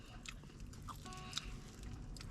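Soft, close chewing of an Oreo Dream Bar, a soft layered dessert with brownie, Oreos and chocolate, with faint bites and mouth sounds over restaurant background noise.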